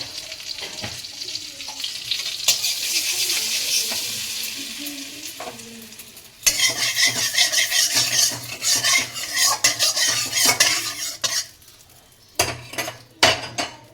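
Butter and oil sizzle in a pan over the flame, a continuous frying hiss broken by spoon or utensil scrapes and clinks against the pan, louder bursts after the midpoint and sharp metallic taps near the end.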